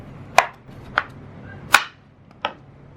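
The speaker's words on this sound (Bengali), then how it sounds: "এখন এটাকে এভাবে আমি গোল স্লাইস করে কেটে নেব" Snake gourd sliced into thin rounds with a knife on a cutting board, four sharp, separate chops spaced irregularly, close and fairly loud with quiet in between.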